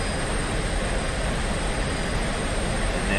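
A MiG-15 jet in the DCS flight simulator rolls for takeoff, its engine giving a loud, steady roar with a high whine, unbroken and close throughout.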